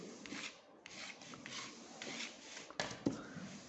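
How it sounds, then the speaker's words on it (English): Wooden popsicle-stick frames being sanded by hand before painting, a steady dry scratchy rasp in repeated strokes with a couple of sharper scrapes near the end, close and fairly quiet. "you're gonna sand it a bit for painting so the paint sticks better to it,"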